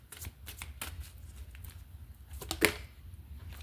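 Tarot cards being shuffled up close, a series of soft riffling and flicking bursts with a sharper snap near the end, no talking.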